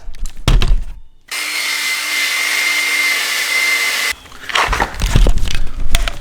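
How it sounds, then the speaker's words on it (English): A power drill with a wire brush whirs steadily for about three seconds cleaning a Cummins crankshaft, a harsh scrubbing buzz, with clunks and handling noise before and after. "All I used pretty much was just my drill with this little wire brush on the end."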